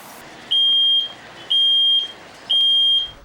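A smoke alarm sounds three loud, shrill beeps at an even pace, each lasting about half a second, with quiet room noise between them.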